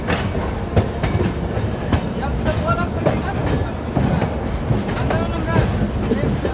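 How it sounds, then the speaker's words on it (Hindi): A train rolls toward the platform at Howrah railway station, its wheels clattering in a steady, close clickety-clack rhythm with rumbling carriages and occasional sharper knocks throughout. "ट्रेन प्लेटफॉर्म की ओर बढ़ती हुई"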